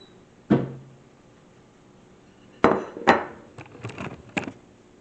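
A dish comes out of a kitchen cupboard for serving crab cakes: one sharp knock, a pause, then a quick run of clacks and clinks of crockery and cupboard, close and fairly quiet.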